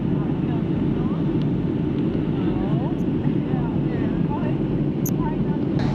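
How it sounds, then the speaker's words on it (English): A loud, steady airplane engine drone fills the cabin as the plane begins its descent, with faint voices murmuring beneath the continuous roar. "Now the plane's starting to descend. You can hear the change in the engines."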